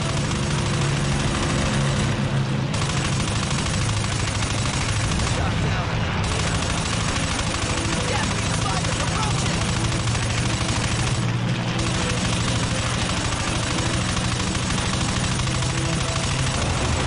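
Rapid machine gun fire from aircraft in the Combat Wings flight combat video game, a dense continuous rattle of shots mixed with engine roar, loud and unbroken throughout.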